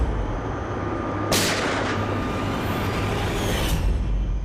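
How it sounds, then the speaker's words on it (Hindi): A single sharp, loud gunshot crack inside a jolting van cuts through a constant engine rumble, followed by a ringing decay. "गाड़ी हिल गई और विक्रांत भी थोड़ा गिर गया, मेरा भी संतुलन बिगड़ गया और गोली चल गई"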